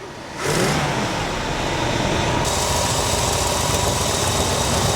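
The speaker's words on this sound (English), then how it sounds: "Oh yeah, it's idling real high now." A revived 1966 Ford Thunderbird engine jumps from a quieter idle to a loud, steady high idle, close and sustained for several seconds with a bright roar.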